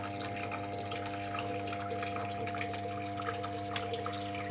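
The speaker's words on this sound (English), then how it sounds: "repeatedly squashing that little bit of tubing and hopefully making a pulse in the water supply" Water pulsing through a short piece of tubing squeezed repeatedly by a vibration generator at 100 Hz, giving a steady low mechanical hum with faint liquid trickling and dripping over it, continuous and close.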